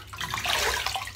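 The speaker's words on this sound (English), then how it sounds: "oh, nice cool splash of water" Cold tap water runs and splashes in a sink, a close, continuous wash of watery spatter over a low hum.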